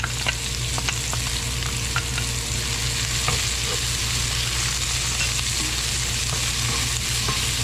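Garlic and onion sauté in a pan for shrimp in oyster sauce, making a loud, even, close sizzle with faint clicks of stirring and no talking.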